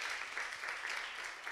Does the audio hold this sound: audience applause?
yes